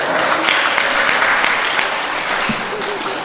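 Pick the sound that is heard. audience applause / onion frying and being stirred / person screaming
audience applause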